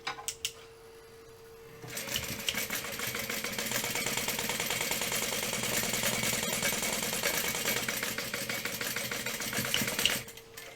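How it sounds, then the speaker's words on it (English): A home sewing machine top stitches along a fabric edge, running in a steady, rapid mechanical chatter for about eight seconds after a quiet start with a low hum, then stopping. "Okay, now we are going to top stitch along the top edge at 1/4, or not 1/4 inch, 1/8 of an inch"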